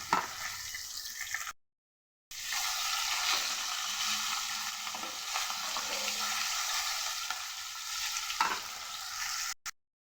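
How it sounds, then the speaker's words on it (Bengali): Fish sizzling in hot oil in a pan for a light potol curry, with a steady bright hiss, a short silent break, and occasional stirring scrapes, alone without talk. "মাছগুলোকে লাল করে ভেজে নিলাম"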